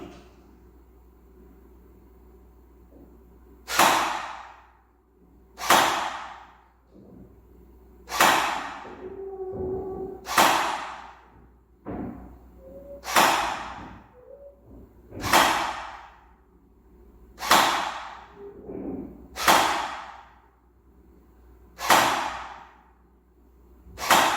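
Ten shots hit a target one after another at a steady pace, each a crisp crack with a quick decay, separated by quiet pauses.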